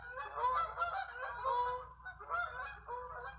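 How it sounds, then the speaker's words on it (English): A flock of geese honks overhead at night, a cluster of nasal calls in two bursts with a short lull between, faint and distant against a quiet low hum. "Yep, those are geese."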